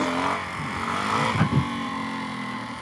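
A DRZ400E dirt bike engine revs through a second-gear wheelie at a dormant vineyard, a close, harmonic rising and falling whine with a brief rough burst midway and a sharp blip at the end.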